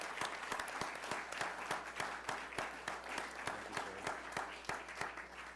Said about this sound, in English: So first, I want to applaud this.